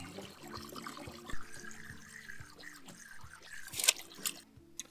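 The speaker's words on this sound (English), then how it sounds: "So I filled the hole with water" Water pours and splashes into a dug soil percolation test hole outdoors, a fairly faint, continuous running trickle with occasional louder splashes and drips near the end.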